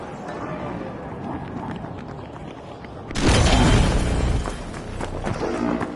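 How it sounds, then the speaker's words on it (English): A sonar grenade goes off in the shooter game The Finals: a sudden loud, booming burst about halfway through follows a busier stretch of game noise, with voices present. "Sonar grenade out!"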